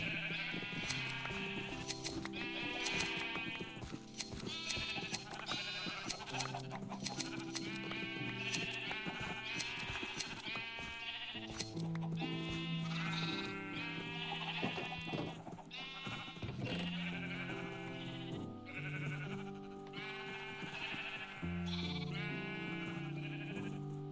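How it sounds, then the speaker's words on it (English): Several sheep bleat repeatedly in quick, overlapping calls in the video game Minecraft (Java), over a steady backdrop of other tones, with no talking. "Let's go shear some more sheep though."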